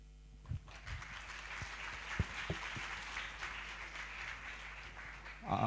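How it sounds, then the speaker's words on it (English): An audience at the Asiacrypt cryptography conference claps together in steady applause that rises quickly, stays even, then begins to fade. "Please cheers them with big applause."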